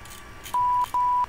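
A VOR navigation radio ident in an MD-80 flight simulator gives two clean, identical steady tones, each about a third of a second long with a short gap between them, over a faint background hum.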